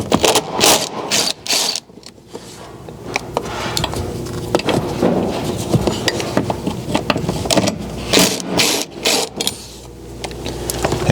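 Hand ratchet backing out 10mm head fasteners from a vehicle floor panel: repeated quick clicking and metallic rattling bursts in uneven runs, close and fairly loud, with small knocks and handling noises between strokes.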